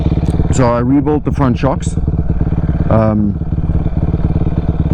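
A supermoto motorcycle's engine runs steadily at close range under a voice as he talks throughout.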